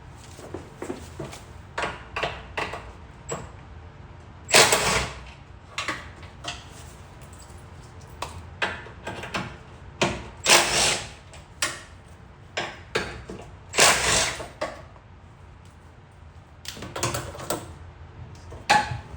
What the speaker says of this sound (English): let me see if I can take off those bolts